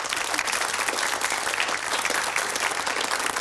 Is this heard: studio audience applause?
yes